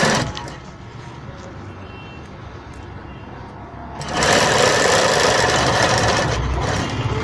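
Sewing machine stitching an invisible zip into a blouse, a steady close mechanical whir that becomes louder and faster partway through, running continuously with no talking.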